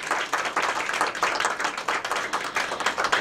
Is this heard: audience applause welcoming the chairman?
yes